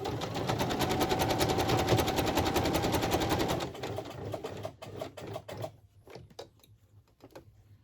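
Sewing machine zigzag stitching around fabric, a fast rapid rattle running steadily, then slowing into uneven short bursts and separate clicks as it stops and restarts.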